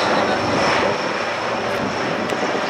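Military helicopters flying in formation at the Aero India air show in Bengaluru, a steady loud engine and rotor roar with a faint voice underneath.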